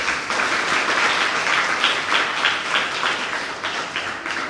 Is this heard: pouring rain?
no